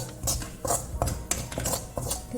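A spoon stirring coriander powder in a pan with prawn curry ingredients, quick repeated scraping and clinks of metal on the pan surface in an uneven rhythm, close and clear.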